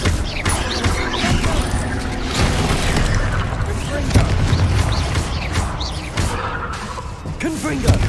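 Spell blasts from Bombarda and Confringo in the Hogwarts Legacy video game, a dense run of booming impacts and crackling bursts under a voice shouting throughout.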